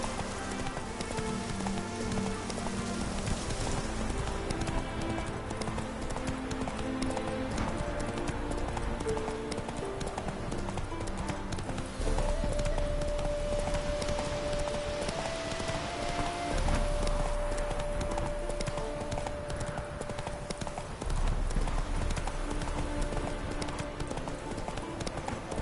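Horse hooves clip-clopping at a steady rhythmic gallop in the video game Witcher 3, loud and continuous beneath game music throughout.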